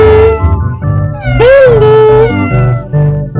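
A cat meows loudly and repeatedly, with one drawn-out, wavering yowl in the middle, close and clear.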